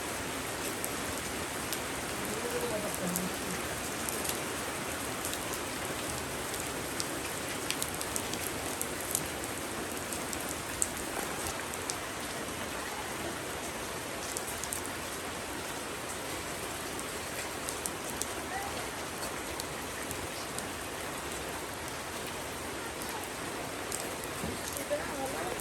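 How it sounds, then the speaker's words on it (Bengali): Heavy rain falls steadily outside a home kitchen with a clay stove, a dense, continuous hiss of drops on surfaces that holds evenly throughout at moderate loudness. "বাহিরে প্রচুর বৃষ্টি হচ্ছে, আর রান্না করে বসে আমরা রান্না করতেছি। দেখুন কত বৃষ্টি হচ্ছে বাহিরে।"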